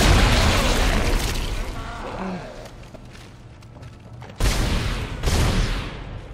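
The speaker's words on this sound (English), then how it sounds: "There's more explosions." Booming explosions in the video game Dead Space, heavy rumbling blasts that swell and fade, followed by sharper renewed bursts near the end.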